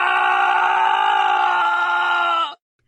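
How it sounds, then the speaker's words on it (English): Kyle Katarn's death scream from the Star Wars Jedi Knight games rings out as one long, strained, tonal cry lasting about two and a half seconds, loud and alone, then cuts off abruptly into silence. "the one thing that sticks with me through my memories is Kyle Katarn's scream when he dies"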